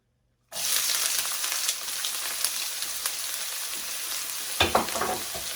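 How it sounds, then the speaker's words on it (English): Onions hit hot oil in a non-stick pan and sizzle hard, starting abruptly after a moment of silence, then continuing as a loud, steady frying hiss with a few brief spatters near the end. "now that the hot oil is in there, we're going to add the onions"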